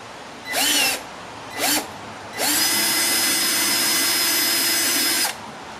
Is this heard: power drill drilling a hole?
yes